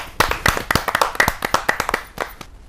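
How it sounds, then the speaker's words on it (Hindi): An audience at a kavi sammelan poetry gathering claps to welcome a poet, a quick burst of dense, close, sharp handclaps that thins out and fades after about two seconds. "जोरदार तालियों के साथ हम स्वागत करें अमित बेनाम जी का"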